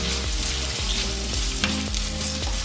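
Potatoes sizzle and fry steadily in a pan while an omelette with sorrel is prepared, a continuous close crackle with occasional stirring scrapes.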